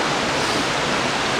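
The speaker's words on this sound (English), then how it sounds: "the river's sort of coming straight towards me and then going either side of me" A river splits around a granite slab and rushes past on both sides, giving a steady, loud, broadband roar of flowing water with no pauses.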